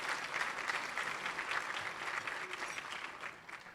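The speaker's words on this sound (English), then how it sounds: "You can give her a round of applause." A business-forum audience in New York applauds a city council speaker as she is welcomed, a steady wash of many clapping hands, moderately distant and sustained throughout.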